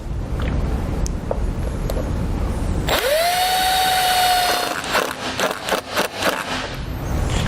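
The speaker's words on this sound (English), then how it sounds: "We're going to grab a 5/16 nut driver and the self-tapping screw, and we're going to go directly into the body of the vehicle here." A 5/16 power nut driver sets a self-tapping screw into the body of a 2018 Ford, giving a loud, close motor whine that rises and holds steady for about two seconds, then stops into clattering handling sounds.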